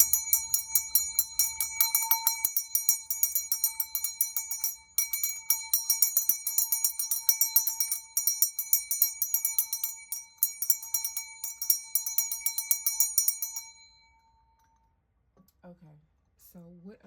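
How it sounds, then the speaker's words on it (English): Ritual bells ring steadily in a rapid, bright tinkling pattern for about fourteen seconds, close and clear, then stop; a brief murmur of voice follows in the quiet afterward. "we're just going to ring our bells here"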